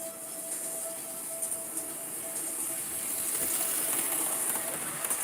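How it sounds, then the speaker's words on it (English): Model railway trucks roll along a layout, a steady soft rumble and hiss with a faint whine, continuous and fairly quiet throughout. "going to move the trucks so that you guys can see"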